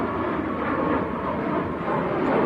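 A Ryanair airliner departing Manchester Airport produces a loud, dense jet roar that stays constant and close throughout the short stretch.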